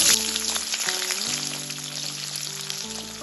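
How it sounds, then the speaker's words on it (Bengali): Chopped mixed vegetables fry lightly in hot oil in a kadai, giving a rain-like sizzle that is strongest at first and eases slightly, with background music underneath. "এবার এই তেলের মধ্যে কেটে রাখা সবজিগুলো দিয়ে হালকা ভেজে নেব"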